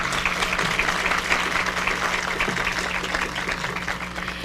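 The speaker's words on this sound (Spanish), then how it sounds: "la maestra Paulina Grobet de ONU Mujeres, para quienes también pedimos un aplauso." Audience applause greets a panel member introduced at the opening of a forum on domestic work, steady dense clapping filling the whole stretch with no voices over it.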